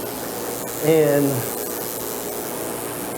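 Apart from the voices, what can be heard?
powder coating spray gun spraying mini bike frame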